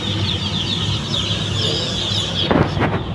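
Chickens cluck in a pen, steady bird chatter running throughout at close range, with a few louder bursts near the end.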